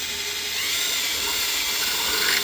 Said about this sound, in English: All right, you're gonna have to drill a hole here,